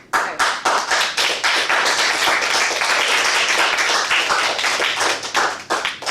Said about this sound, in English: Good clapping is what we're just doing